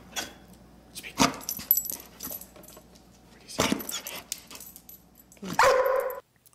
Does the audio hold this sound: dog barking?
yes